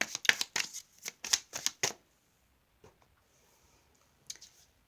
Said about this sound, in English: So I'm going to pre-shuffle the cards